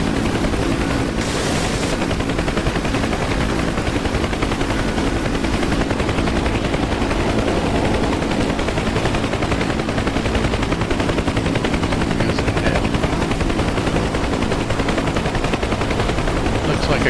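Door gunners on a UH-1 Huey helicopter fire machine guns in the DCS combat flight game, with steady bursts of gunfire over the constant loud rotor and engine drone throughout.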